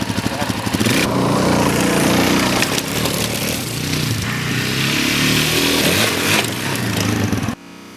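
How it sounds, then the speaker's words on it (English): A Suzuki DRZ400 motorcycle roars loud and close at speed across rough ground, the engine note holding hard and wavering with throttle before cutting off abruptly near the end. "I'm going to try and really just rail across this stuff, like either first gear all out"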